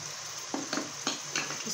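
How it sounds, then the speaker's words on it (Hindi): Masala with tomato paste frying in a pot for mutton kofta curry, a steady sizzle broken by several distinct stirring scrapes, no talking. "इसको मज़ीद अच्छी तरह से हम लोग भून लेते हैं।"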